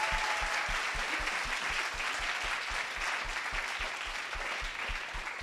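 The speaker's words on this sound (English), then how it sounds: "Can we first give a huge, huge, huge round of applause to all three speakers today?" A meetup audience in Kuala Lumpur applauds three speakers with even, sustained clapping at moderate loudness, while a soft low pulse thumps steadily underneath.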